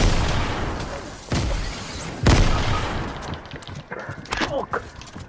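Gunfire crackles in the video game Fortnite, with a couple of sharp loud shots standing out from a busy bed of game noise, followed by smaller scattered pops.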